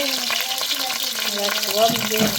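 Steady crackling sizzle of cinnamon, cloves and cardamom frying in hot oil, loud and close, with faint scraping and a soft tonal whine over it.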